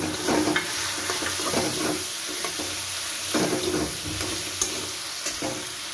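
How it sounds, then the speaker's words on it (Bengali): A ginger-cumin spice paste with ground pepper, cloves, cinnamon, cardamom and green chilli sizzles steadily in a pan, a loud continuous hiss broken by scraping stirs, no voices. "মশলাটা আমার ভাজা ভাজা হয়ে এসেছে।"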